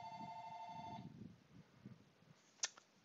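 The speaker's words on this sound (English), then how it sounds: "My phone went off." A mobile phone rings with a steady electronic ringtone for about a second, then cuts off, leaving faint low murmuring and a short sharp click near the end.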